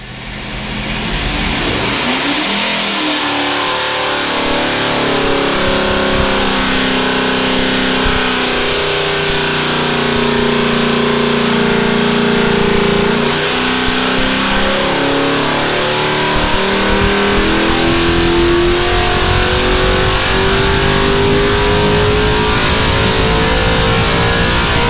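Hemi-headed small block engine on a dyno at wide open throttle, a loud sustained roar that climbs steadily in pitch over about twenty-five seconds, heard alone and close.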